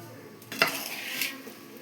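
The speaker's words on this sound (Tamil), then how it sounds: "நல்லா மாவை கிண்டிக்கலாம்." Kolukattai flour dough stirred in a pan with salted water: one sharp clank of a utensil against the pan, then soft scraping and stirring noises, close by and with no talk.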